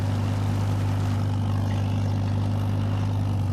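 A vintage tractor engine with its exhaust coming out the front idles steadily and loudly up close, with a deep, even chugging throb that never changes pace.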